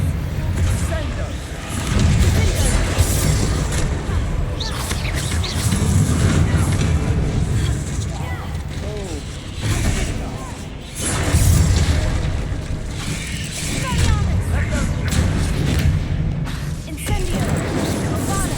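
Bombarda and Confringo spells go off in rapid succession during a Hogwarts Legacy battle, repeated booming blasts and rumbling bursts layered with chaotic combat noise and voices.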